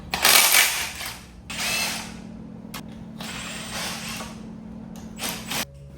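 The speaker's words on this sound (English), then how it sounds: "now let's go ahead and pop these bolts off." A power tool spins off oil pan bolts during engine teardown for a Corvette LS2 swap: several loud close ratcheting whirs of about a second each, separated by short pauses, with no talking.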